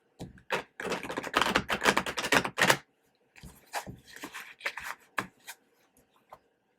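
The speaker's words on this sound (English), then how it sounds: "One more shuffle." Tarot cards being shuffled: a quick clattering riffle of dense flicking, followed by shorter bursts and scattered taps, close and fairly quiet.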